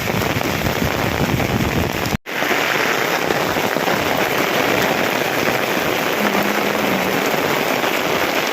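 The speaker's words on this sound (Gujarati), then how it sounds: "જો મિત્રો વરસાદ ચાલુ થઈ ગયો ફૂલ" Heavy rain pours down steadily on Ambaliyasan village, Patan, including onto a temple, a dense close hiss of drops on surfaces that cuts out for a split second before resuming.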